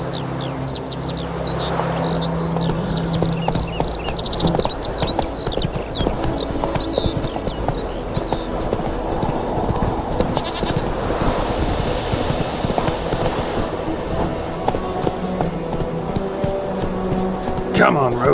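Roach the horse from the video game The Witcher 3 trots with a steady, close clip-clop of hooves throughout, accompanied by birdsong and a voice speaking.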